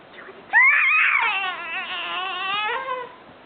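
Baby girl straining to roll over lets out a loud, drawn-out vocal growl lasting about two and a half seconds, wavering in pitch and fading at the end, close to the microphone.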